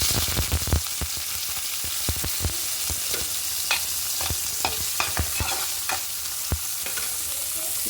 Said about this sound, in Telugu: ఇప్పుడు దీంట్లో ఉప్పు చేపలు వేయించుకుందాం